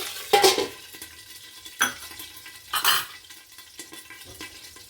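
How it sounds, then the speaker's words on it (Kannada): Mustard seeds and chana dal frying in oil for a pumpkin stir-fry, heard as a few separate bursts of spattering and stirring with metal clinks against the pan, each short and close, with quieter gaps between. "ಸಾಸಿವೆ ಹಾಕಿದ್ದೀನಿ. ಇವಾಗ ಕಡಲೆಬೇಳೆ,"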